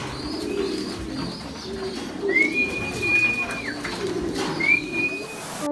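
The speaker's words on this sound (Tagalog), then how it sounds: "Ang ibon na to, ito yung nakuha ko dun sa kaibigan ko, si Shaka." Pigeons coo in a racing pigeon loft, soft repeated low coos sounding close over faint background chatter, with a couple of brief higher whistling chirps.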